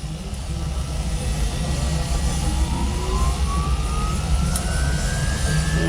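An AH-1F Cobra helicopter's turbine engine spools up during start, a loud, close, steady roar with a whine that climbs gradually in pitch throughout.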